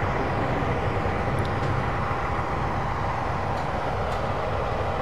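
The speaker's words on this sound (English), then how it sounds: "now going to shut off power and just allow the train to coast" Class 15x express train in Train Simulator 2015 coasting with power shut off on the Liverpool to Manchester route, a steady low rumble of wheels on track with no rise in engine noise, alone throughout.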